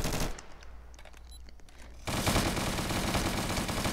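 Rapid video game gunfire rattles out in a burst, briefly thins to quieter crackling shots, then returns as a dense, loud stream of automatic fire.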